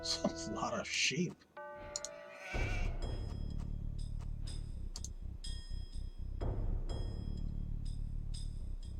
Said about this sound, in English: That's a lot of sheep.